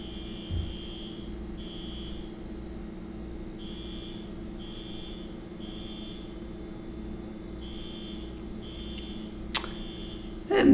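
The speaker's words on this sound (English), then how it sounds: "they're testing the elevator alarm" An elevator alarm under test sounds as a steady series of evenly spaced electronic beeps, several in a row with short gaps, set over a constant low indoor hum, with a brief sharp click near the end.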